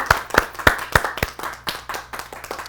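A Shabbat congregation claps in a run of sharp, evenly spaced hand claps that soon loosen into softer, scattered clapping, close and clear with no talking over it.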